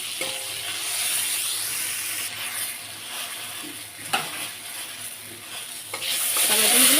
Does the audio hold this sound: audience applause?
no